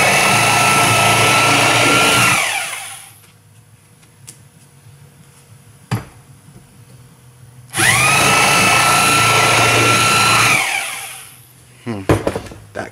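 A power tool cuts out the bushing collar on a VR6 Passat wagon in two long, loud, steady whining bursts. A quiet pause between them holds a single sharp clunk.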